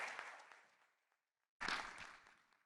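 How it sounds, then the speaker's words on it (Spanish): An audience at a national private-enterprise conference applauds a guest, with a burst of clapping that fades to silence, then a second strong round of applause that swells and holds. "Un aplauso para nuestro invitado."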